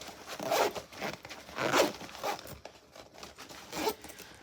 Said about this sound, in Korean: 잠가서 보여드릴게요. 이렇게 양쪽으로 잠갔다 열었다 할 수 있고요.